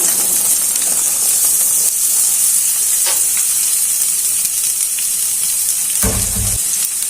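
Yardlong beans and potato hit hot oil in a pan over fried onion, giving a loud, steady sizzle throughout, with a brief burst of louder crackling near the end.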